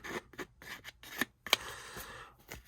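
A distressing tool roughs up the edges of a paper card in short, close scraping strokes, a run of dry rasping rubs with brief pauses between them.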